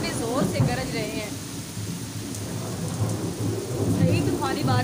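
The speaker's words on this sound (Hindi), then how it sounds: "बादल कितने ज़ोर से गरज रहे हैं।" Heavy rain pours steadily outdoors as thunder rumbles low and continuous beneath it, a dense roaring wash with someone talking over the storm at times.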